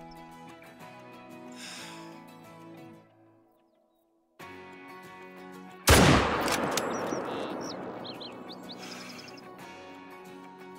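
A loud, sharp .303 bolt-action rifle shot rings out in a whitetail hunt in the video game Call of the Wild, a broadband crack followed by a long decaying echo after a brief silence, with faint game ambience and bird chirps before and after.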